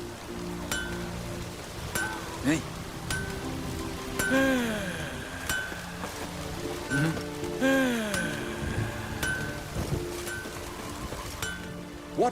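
Rain falling in The Witcher 3, a steady patter of drops on surfaces throughout, with scattered clinks and a few sweeping tonal game sounds, a brief spoken word near the start.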